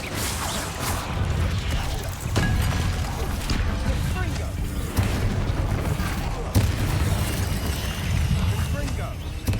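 Repeated loud blasts of the Confringo spell in Hogwarts Legacy, heavy booming explosions with crashing debris and mechanical clatter recurring every couple of seconds through a dense battle mix, with talk underneath.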